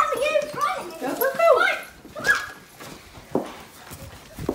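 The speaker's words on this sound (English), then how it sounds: "It's a little puppy." A little male puppy whimpers and yips in short, high, wavering cries, mostly in the first half, while people talk nearby.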